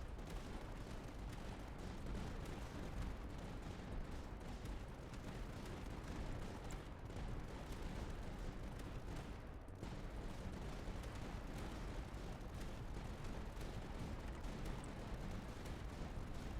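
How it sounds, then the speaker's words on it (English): Light mortars fire nonstop in the tower defense game Tower Dominion during an endless-mode final wave, a dense, loud, unbroken wash of booming shots and blasts heard alone without talk. "Now the light mortars go even crazier."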